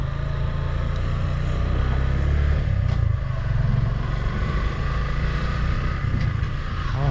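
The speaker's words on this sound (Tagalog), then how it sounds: "Gusto mo suwabe yung downshift mo, rev match ka." A Suzuki Gixxer 155 fuel-injected manual motorcycle's engine hums steadily and close at low revs, with a quick throttle blip near the end as the rider rev-matches a downshift.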